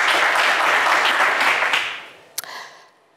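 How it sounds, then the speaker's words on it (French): A burst of applause from a television game show studio audience fades out over a couple of seconds, followed by a single sharp clap or knock. "Bravo, mon cher César, on vous applaudit."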